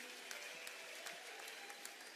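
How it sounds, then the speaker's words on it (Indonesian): An audience at an unplugged concert claps steadily in a dense, even wash of applause, heard alone and from a slight distance. "kita berikan tepukan kepada Cik Lee ataupun Rosli Manan"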